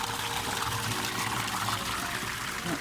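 Steady rushing water pumped from a reservoir into a chamber, a continuous close gush with no break in flow throughout.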